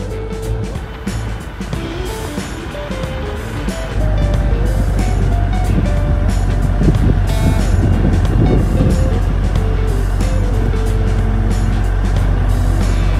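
A tractor carrying pallet forks drives along with a loud, steady diesel rumble that grows heavier after a few seconds, with rattles and clanks from the forks over it.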